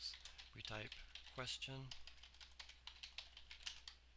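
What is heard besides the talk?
typing on a computer keyboard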